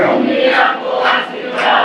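A crowd at a spiritual gathering and book-release event cheers and claps loudly, a dense steady roar of many voices swelling in a few waves and never dropping away over the short stretch.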